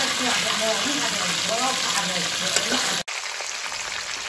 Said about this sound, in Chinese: 这家的鱼骨头先煎一下